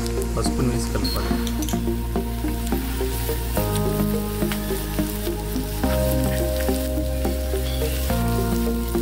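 Curry leaves, green chilies, ginger-garlic paste and turmeric frying in oil while cooking brain fry, giving a steady close sizzle beneath continuous music.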